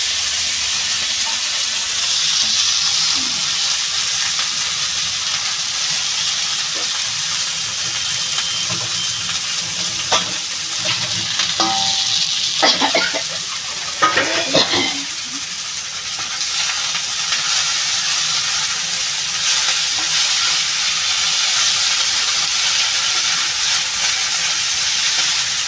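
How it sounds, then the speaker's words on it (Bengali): Tender chola greens sizzle and hiss in a hot kadai, a continuous frying crackle with a burst of sharper spitting and stirring midway, close and steady with no talk. "আমি এবার শাকটা কড়াইতে দিয়ে দেবো।"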